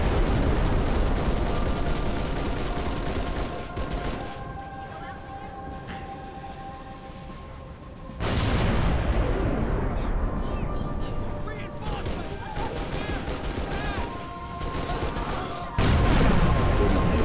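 Dense Halo 3 battle sounds fill the scene: continuous gunfire, heavy cannon blasts and roaring explosions, loud and layered, with game voices and talk mixed in among the combat.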